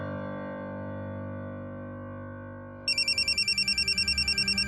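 A phone rings in a Marathi TV serial home scene, its repeated electronic ringtone pulses starting partway through over a low room background, loud and close.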